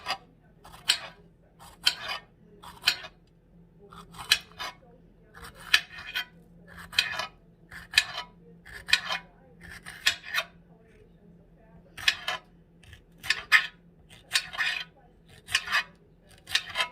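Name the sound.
knife cutting a pepper into little pieces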